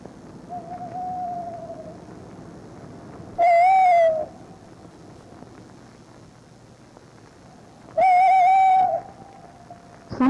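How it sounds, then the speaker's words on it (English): A tawny owl at the edge of its territory answers with two loud, clear hoot calls several seconds apart, over a quiet background with light wind noise. "Graham Hirons uses pre-recorded hoots to attract the owls to the edges of their territories"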